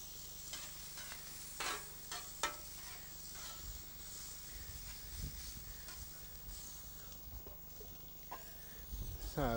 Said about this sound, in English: So you can have your potatoes already cooked, ready to go, and just warming them through like I'm doing.